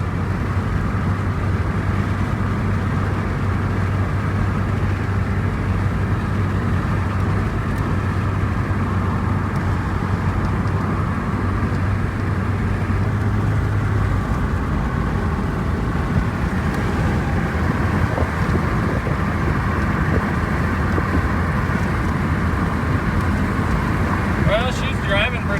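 A cheap ten-dollar car cruising in fourth gear, heard from inside as a continuous engine hum and road rumble, steady and moderately loud throughout.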